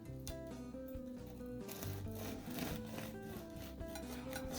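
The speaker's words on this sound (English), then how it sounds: "It's got a nice crisp sound to it, even cutting into it." A knife saws into a crisp-crusted baked challah loaf, giving a continuous raspy scraping over a steady bed of background music, with no voices.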